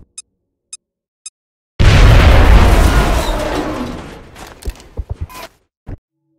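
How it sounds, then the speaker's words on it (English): A grenade goes off in the strategy game XCOM Enemy Within: three faint clicks, then a sudden loud blast that rumbles and decays over a couple of seconds, followed by scattered debris clatters. "Je balance la grenade."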